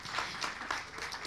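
Brief burst of audience applause at a sexual and reproductive health event, moderately distant and fairly soft, a short run of overlapping claps lasting barely over a second.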